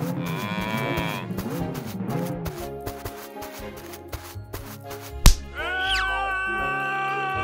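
A cow gives several loud, drawn-out moos close by, with wavering pitch, amid a busy bed of animated sound effects and a sharp thump near the end.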